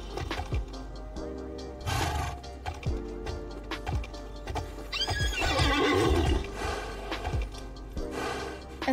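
A horse in the online game Alicia Online neighs loudly in several whinnies, mixed with clip-clop hoofbeats and other bursts, close and prominent with no talking.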